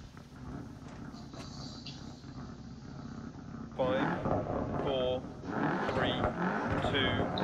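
Rally car engine in the Dirt Rally video game, a Crest Autosport car, pulling with low-end grunt; a steady rumbling drone that rises in pitch and loudness partway through, with someone talking over it.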